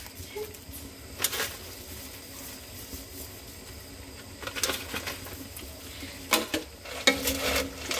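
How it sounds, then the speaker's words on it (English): Furikake Chex mix is stirred in a pan with soft scraping and rustling strokes, a few louder sweeps standing out over a faint sizzle, while someone talks in the background. "just kind of keep mixing for another 4 minutes"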